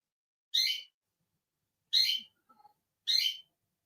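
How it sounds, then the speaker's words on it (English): A bird gives three sharp, bright chirps at regular intervals of about one and a half seconds, with a faint softer call between them against near silence. "Can you hear them birds?"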